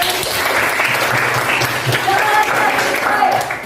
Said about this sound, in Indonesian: Kasih tepuk tangan dong, Jeren.